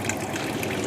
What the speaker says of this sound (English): I drained the water down. It quit.